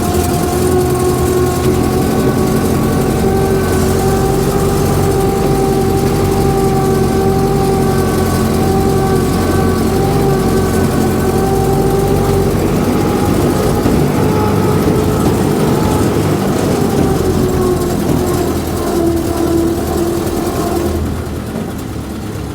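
A 1929 Ford AA tow truck engine runs continuously at a steady idle, loud and close, its low rattling drone holding for over twenty minutes' worth of seconds without a break before easing slightly at the end.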